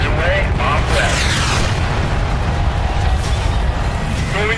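Blasts from laser-guided weapons dropped by a Scorpion jet, a steady loud rumbling roar of explosions with faint whooshing streaks, no distinct separate impacts.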